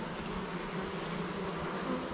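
Honeybees buzz around an open, healthy hive, a steady dense hum that stays even and continuous throughout, close and moderately loud with no voices.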